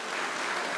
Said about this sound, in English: I'm not sure I want the applause for this one